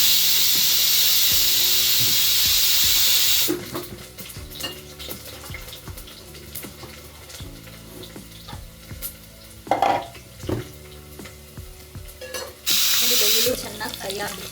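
A pressure cooker on a home kitchen stove, cooking mutton for a mutton chops and ghee rice meal, lets out loud sustained steam whistles at the start and again near the end, with quieter stirring and utensil clatter in between.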